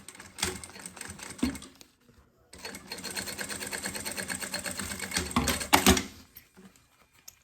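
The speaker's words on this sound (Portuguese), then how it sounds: "Você vai costurar só a parte de baixo do forro." A sewing machine runs in steady rapid bursts as it stitches the lining of a synthetic leather wallet, pausing briefly and then whirring loudly and continuously up close.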